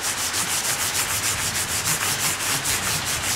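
Sandpaper of 1000 grit rubs back and forth on the wooden body of a Mexican Fender Stratocaster, a steady rhythmic scratching of even strokes at close range, with no voices.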